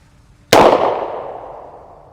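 A single sharp shot from a Smith and Wesson Model 442 .38 Special revolver, fired at about 30 feet on a range, cracks loudly and rings out in a decaying tail, with no talk.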